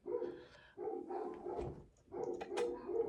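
Several dogs bark indoors in repeated bursts, loud and fairly close, with no talking over them.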